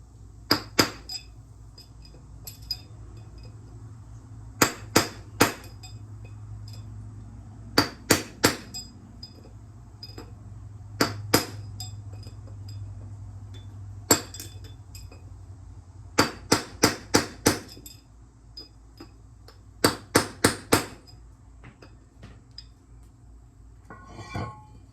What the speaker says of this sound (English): Get a long skinny punch with a flat tip, good hammer,